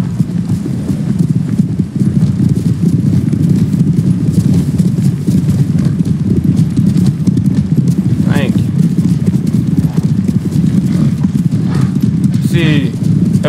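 Horse hooves clip-clopping steadily in a run through the video game Ghost of Tsushima, loud and continuous over game music, with brief whinnies and a person talking over it.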